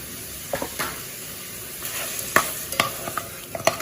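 Pork curry being stirred in a frying pan, a steady close sizzle with scattered scraping clicks of the spoon against the pan, no talking.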